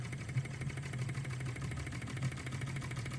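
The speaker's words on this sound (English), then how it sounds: "So this is how to run one of these OKMO Ericsson engines properly." An OKMO R01 Rider Ericsson hot-air Stirling engine runs steadily on minimum gas, a continuous low mechanical thrum with a soft rhythmic knock, close and even throughout with no talking.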